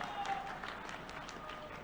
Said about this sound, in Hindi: जरा बताओ आनंद के साथ ताली वाली बजा करके